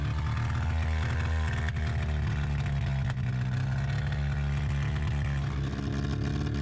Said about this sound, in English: look at that wheel spin